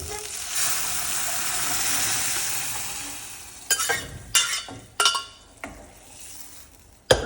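Lentils tipped into a pan of frying onions set off a steady hiss of sizzling, followed by several sharp scrapes and clanks as a spoon stirs against the pan.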